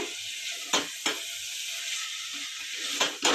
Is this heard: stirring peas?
yes